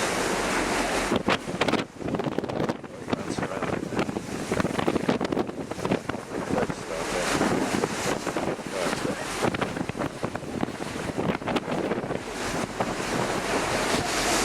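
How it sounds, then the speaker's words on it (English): Heavy coastal wind buffets the microphone in a constant loud roar, with surf audible underneath and no speech. "probably get a lot of wind noise"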